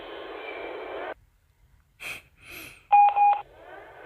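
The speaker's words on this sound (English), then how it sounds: "Is that an alarm?" An electronic alarm in the horror game The AAVARION Show: The Bad Room gives a brief pair of clear beeps near the end, after a burst of hiss and some breathy sounds, with quiet gaps between.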